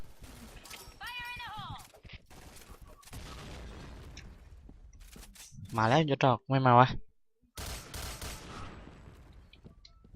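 Bursts of assault-rifle gunfire from an OA-93 in the shooter game Point Blank, several rapid volleys crackling loudly, mixed with game effects while players talk excitedly over it.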